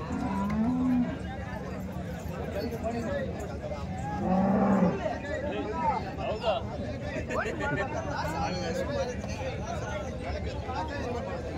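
Holstein Friesian cows moo a few times, low and drawn out, over the steady chatter of a crowd at a busy cattle market in Chintamani.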